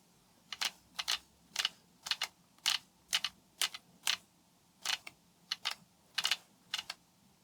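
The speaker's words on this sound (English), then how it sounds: "There is some noise from the aperture changing." Soft mechanical clicks and ticks come in quick, irregular bursts, each short and crisp, as the aperture of a YongNuo 42.5mm f/1.7 Micro Four Thirds lens adjusts repeatedly in a quiet room.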